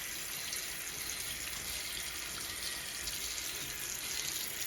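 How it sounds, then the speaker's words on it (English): Hands are rinsed under a running tap, a steady, unbroken hiss of flowing water splashing into a sink, close and even in level, with no talking. "And I rinse again."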